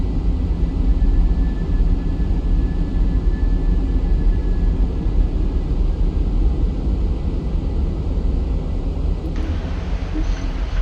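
An Airbus A320 with IAE engines climbs after takeoff in a flight simulator, giving a loud, steady broadband engine and air roar that holds constant for the whole stretch, with no talking.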